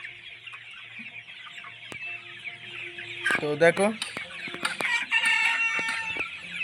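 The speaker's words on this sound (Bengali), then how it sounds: "তো এখানেও অনেকগুলো করকনাথ আছে" Young Kadaknath chickens cluck in quick, close bursts with a short crowing call among them. Someone speaks briefly over the flock.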